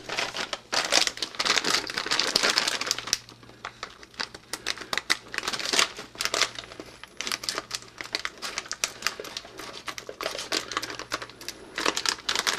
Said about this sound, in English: We'll use the scissors on it.